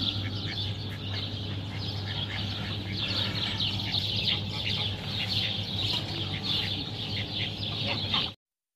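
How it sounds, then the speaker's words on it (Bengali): Geese and Chinese ducks on a large livestock farm in Italy honk, quack and cluck in a busy, overlapping chorus at moderate distance, continuing without a break until the sound cuts off. "যে রাজহাঁস, আবার চীনা হাঁস আছে।"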